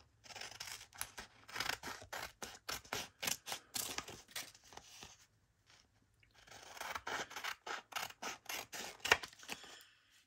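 Scissors snip rapidly through glued pocket pieces in two quick rhythmic runs of crisp cuts separated by a short pause, close and fairly quiet with no speech.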